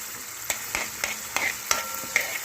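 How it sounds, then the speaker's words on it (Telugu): A large onion fries in a pan while being stirred. A steady hiss of sizzling is broken by soft periodic scrapes of the spoon roughly every quarter second, close and moderately loud. "ఒక పెద్ద ఉల్లిపాయ వేసుకోవాలి. ఇది కొంచెం వేగాలండి."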